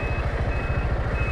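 A steady electronic tone from a Piaggio MP3 500 HPE Sport Advanced scooter in reverse, sounding over a low, throbbing idle that runs continuously up close, with no talking.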